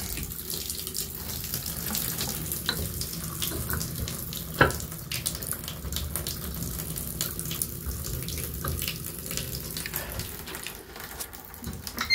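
Water running from plumbing, a steady close rushing flow like an open tap, with a few clanks and knocks over it, no talk.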